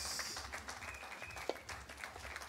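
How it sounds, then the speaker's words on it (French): Faint scattered applause from a congregation at a French church service in Paris, light clapping spread across the moment, distant and soft with no talking over it. "J'attends vos acclamations."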